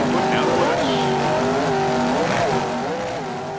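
A race commentator talks over loud, droning engines of offshore racing powerboats at the Daytona Harley-Davidson Offshore Grand Prix, with a 37-foot boat among them and the engine pitch rising and falling throughout.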